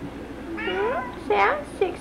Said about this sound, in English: Get that old kitty cat.